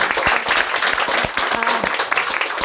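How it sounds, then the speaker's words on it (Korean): Dense audience applause at a Korean human-library talk event, a steady patter of many hands clapping close and loud for the whole stretch. "박수 한번 할까요?"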